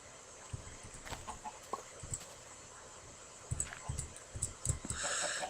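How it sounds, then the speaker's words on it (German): Several chickens clucking in Minecraft, a scattering of short soft clucks and bursts at irregular intervals, fairly faint over quiet game ambience, getting busier toward the end. "irgendwie sind es jetzt wieder mehr Hühner"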